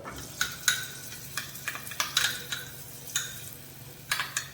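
Masala paste with ginger and garlic being sautéed for a tuna fish curry: a soft background sizzle broken by frequent light clicks and scrapes of stirring in the pot, close up, with no voices.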